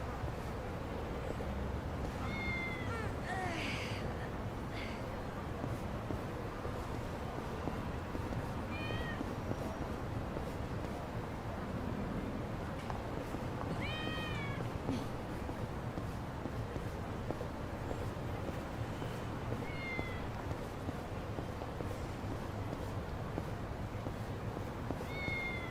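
A cat meows repeatedly in Yakuza: Like a Dragon, short high mews scattered across a steady murmur of background ambience, fairly faint and without speech.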